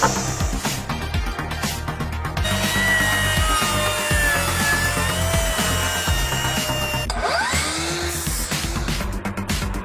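A DeWalt FlexVolt cordless circular saw rips through wood outdoors, its loud motor whining continuously with shifting pitch under load, easing off near the end before a final short spin-up.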